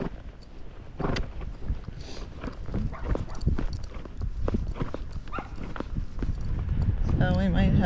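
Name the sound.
horse hooves clip-clopping on road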